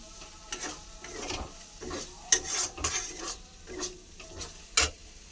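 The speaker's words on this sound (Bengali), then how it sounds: "ইঁচড় রান্নার জন্য আমি সব এখানে সব মশলা, যা যা প্রয়োজনীয় মশলা লাগে সব কিছু তেলের মধ্যে দিয়ে দিচ্ছি।" Spices going into hot oil for a jackfruit curry in a home kitchen, with crackling sizzles, scraping stir strokes and a few sharp metallic clinks of a utensil against the pan, close and unaccompanied by talk.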